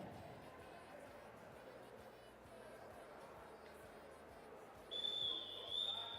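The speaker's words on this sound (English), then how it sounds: "That's the first whistle." A referee's whistle at a roller derby bout sounds near the end: a bright shrill tone over steady crowd noise and arena hubbub, with a second short blast just after.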